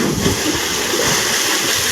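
Swimmers plunge into a well and splash about, with continuous loud water churning and rushing close by filling the whole moment.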